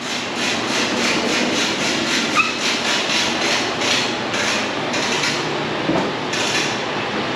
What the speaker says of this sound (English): Let's turn on, compressor's on, that's good.